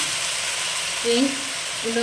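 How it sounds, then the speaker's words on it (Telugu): Cabbage soaked in salt water hits hot tempering oil for an Indian-style cabbage curry, a steady sizzle with a brief stirring clatter midway, close and fairly loud, no talking. "తాలింపులోకి క్యాబేజ్ వేసుకోవాలండి"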